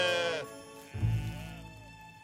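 Cartoon sheep bleat in two quick wavering calls, clear and close, with no talk over them.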